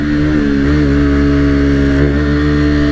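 A KTM Duke motorcycle engine revs close by, loud and continuous, with harmonics that rise and fall slightly as the throttle is held and blipped.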